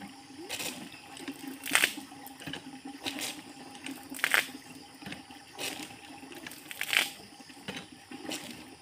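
A water pump with a full tank pushes out strong water. The water gushes and splashes in regular bursts about every second and a half, close and fairly loud, over a low background hum.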